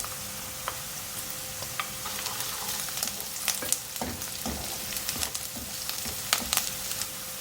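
Onions and chopped green chillies fry in a pan with a steady sizzle, punctuated by soft clicks and scrapes of stirring, close and fairly quiet with no talking.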